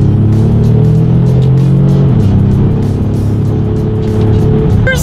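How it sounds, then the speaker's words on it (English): Ford Explorer SUV with a twin-turbo V6 accelerating hard through paddle-shift gear changes: a loud, steady engine drone that drops in pitch at an upshift partway through, heard from inside the cabin. "So let's test out the paddle shifters and see how quickly they react for us."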